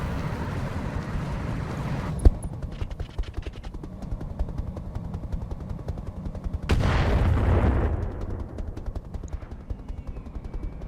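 Machine guns mounted on a mech's center torso in Roguetech rattle in quick bursts, fairly quiet, over a low mechanical rumble, with one sharp crack early and a heavier rumbling swell later on.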